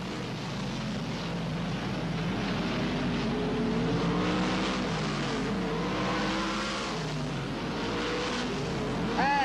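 Speedway race cars lapping at Parramatta City Raceway, a continuous loud roar of multiple engines revving and passing, with a race commentator talking over the noise.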